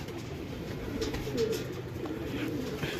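A pure Prince breed pigeon coos softly and steadily close by, a low continuous murmur with no voices over it.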